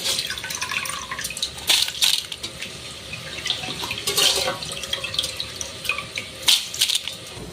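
Water drains from washed ration rice set aside in a vessel, close-up trickling and splashing drips that come in uneven bursts with no talk.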